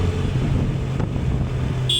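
Motorcycle cruising along an empty flyover, a steady close engine drone with road rumble that holds for the whole stretch and ends with a brief high tone.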